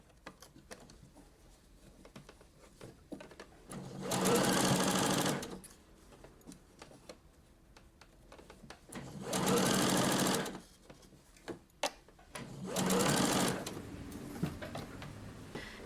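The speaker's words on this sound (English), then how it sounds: "So now we're going to go back on the sewing machine and just sew it in 1 centimeter seam allowance" Domestic sewing machine stitching a 1 cm seam on a gathered blouse sleeve. It makes three steady mechanical whirring runs of a couple of seconds each, separated by quiet pauses with faint handling noises.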